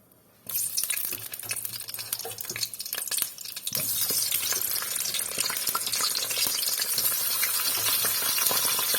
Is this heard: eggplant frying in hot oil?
yes